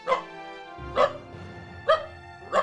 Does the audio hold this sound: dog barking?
yes